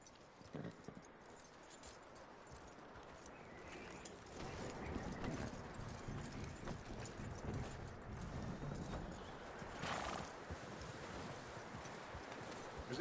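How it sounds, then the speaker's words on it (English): Horse hooves clip-clop steadily in a video game, a quiet, regular trotting rhythm that continues throughout, with a slight rise in intensity toward the middle and no talking. "That looks like a decent horse."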